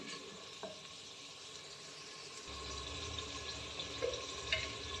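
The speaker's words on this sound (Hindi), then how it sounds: "अब मैं टमाटर को अच्छे से फ्राई करूँगी" Tomatoes frying in a clay pot, a faint steady sizzle that thickens partway through, with soft stirring clinks, no talking.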